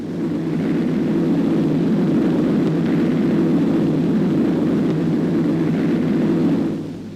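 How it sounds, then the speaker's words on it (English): WWII carrier-launched bombers over Iwo Jima in 1945 produce a continuous, loud low engine roar that stays steady for about seven seconds before easing slightly at the end, with no voices over it. "Carriers, lying back of the main fleet, sent in hundreds of bombers"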